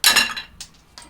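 A metal socket drops during an engine teardown on a five-cylinder engine, giving a bright clink followed by two smaller rattling bounces close by, with no talk.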